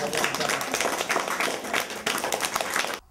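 A small crowd claps for a performer at a university education programme event, dense scattered applause running steadily for about three seconds before cutting off abruptly, with some voices mixed in.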